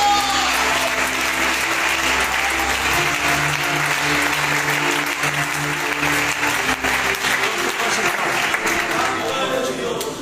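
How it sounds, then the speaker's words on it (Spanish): A church congregation claps in sustained, dense applause that fills the room for the whole stretch. The applause is steady and loud, and a few voices carry faintly beneath it. "Fuertes aplausos para el Señor."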